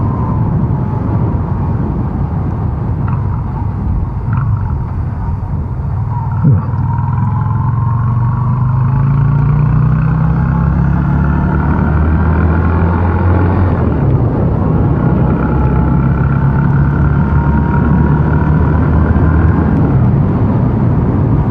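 A Yamaha XV250 motorcycle fitted with 17/40 gearing accelerates through the gears, its engine droning loud and steady, with pitch sweeps rising and falling at each shift and heavy wind rumble throughout.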